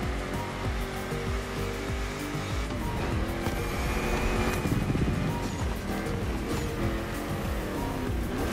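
A car is driven in The Crew Motorfest racing game, with a continuous engine roar that rises and falls with gear changes and occasional tire squeal. The sound is moderately loud throughout, and no voice comes over it.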